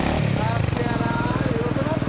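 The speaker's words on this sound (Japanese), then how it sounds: "ごめん、エンジンを聞かせてもらえる？" Suzuki VanVan 200 motorcycle with a BEAMS aftermarket exhaust idling close by, a steady rapid single-cylinder thump with a brief throttle blip at the start, under people talking.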